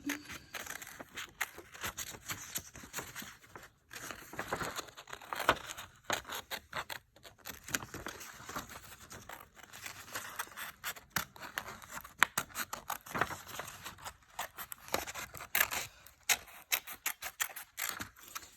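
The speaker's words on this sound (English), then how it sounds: "take your scissors and you're going to cut it out" Steady snipping of scissors cutting through stiff cardboard, a fast irregular run of crisp cuts and scrapes lasting throughout, close up, with no talking.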